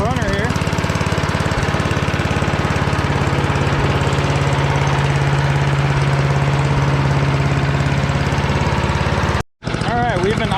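A Craftsman 8.5 hp wood chipper engine idling close by, a loud steady rumbling chug that runs throughout and cuts out for a brief moment near the end.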